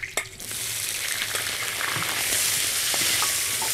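Sliced pork heart, tongue and tripe hit hot oil with ginger and garlic in a wok, bursting into a loud, steady sizzle with a few scraping stirs at the start, no voices present.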